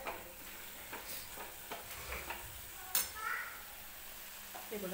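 Spinach sautéing in a pan for a dry palak bhaji gives a quiet sizzle with scattered stirring scrapes and taps, and one sharper clink near the middle, all faint and close with no voices.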